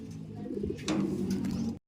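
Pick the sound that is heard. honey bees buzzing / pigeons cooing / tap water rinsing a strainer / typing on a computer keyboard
pigeons cooing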